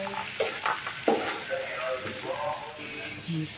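Bottle gourd and sardines sautéed in a pan and stirred, with a soft sizzle and scraping spoon strokes close by, while a person talks over the cooking.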